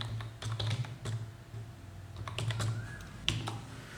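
Quick bursts of keys clacking on a computer keyboard, close and fairly quiet, in short irregular runs with brief pauses and a sharper key tap near the end.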